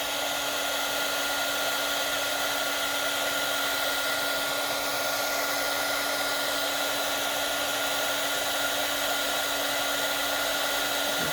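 A heat gun blows steadily and loudly at close range over embossing powder on a die-cut piece, a continuous whooshing hum with a faint whine that holds unbroken for about eleven seconds, with no talking.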